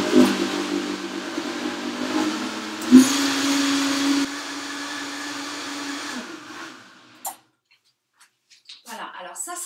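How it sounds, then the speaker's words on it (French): A blender whirs loudly, mixing a raw zucchini dessert cream, running for about six seconds with a brief pitch dip before cutting off, followed by quiet and a few soft knocks. "Et maintenant je vais mixer."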